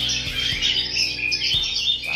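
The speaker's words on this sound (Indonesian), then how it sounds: "ini baru datang nih kenari-kenari merah" Red canaries chirp in a bird shop, a dense overlapping chorus of bright high tweets and trills, close and lively, with a few soft low knocks underneath and no one talking.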